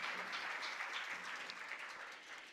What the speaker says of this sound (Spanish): Fuerte el aplauso para Carmen Chang, ganadora del Concurso Nacional de Oratoria 2015